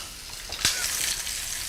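Meat browning in a hot pan, a steady close sizzle and fry with a brief sharp crackle, no voices.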